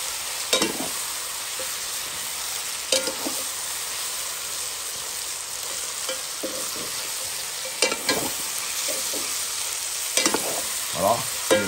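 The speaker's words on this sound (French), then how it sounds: "Mélange bien tout ensemble." Rabbit with carrots and prunes stirred in a cooking pot, a steady low sizzle running throughout with several distinct scraping stir strokes spaced a few seconds apart, close by and with no voices.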